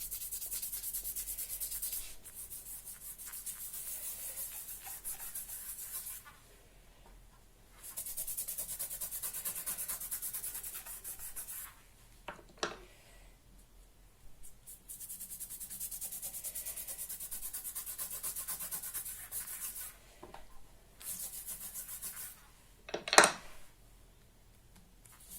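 Gilding wax is rubbed by hand onto embossed die-cut paper in soft, dry scrubbing strokes that come in several bursts separated by quiet pauses, with a couple of brief sharper scuffs, close and fairly faint.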